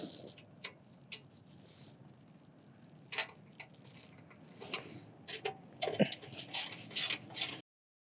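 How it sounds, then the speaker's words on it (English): A socket wrench ratchets a bolt on a passenger and cargo e-trike, giving quick clicking pawl bursts that grow busier and louder toward the end, close and unaccompanied by speech. "I've switched my tool to a socket"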